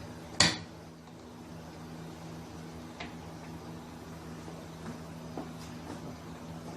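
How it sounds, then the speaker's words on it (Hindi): A single metallic clank of a pressure cooker lid being set and closed over beef paya, then a quiet kitchen hum with a few faint ticks. "कुकर का ढक्कन"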